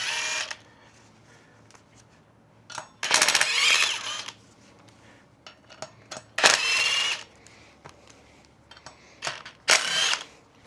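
A handheld impact driver runs in several short bursts while fitting an Aprilia front rally wheel to a standard Tuareg 660 motorcycle: sharp, loud whirring rattles separated by quiet pauses, close to the listener.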